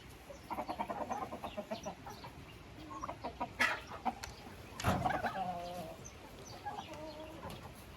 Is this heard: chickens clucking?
yes